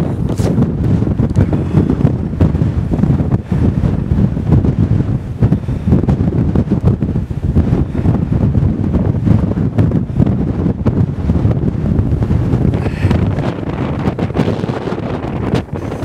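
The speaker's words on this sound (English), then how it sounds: "it's too windy" Strong wind on a hilltop on Moel Famau buffets the microphone with a constant loud roar and rumbling gusts, filling the whole stretch with no other clear sounds.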